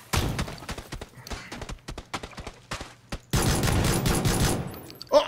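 Rapid gunfire from PlayerUnknown's Battlegrounds: a series of sharp separate shots over the first three seconds, then a dense sustained burst of fire before it cuts off, with no talk over it.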